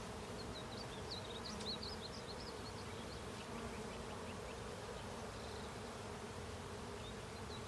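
A honeybee swarm from a cedar tree buzzes at a hive with fanning bees, forming a continuous soft hum with scattered higher buzzes of individual bees drifting past, faint and steady with no talk.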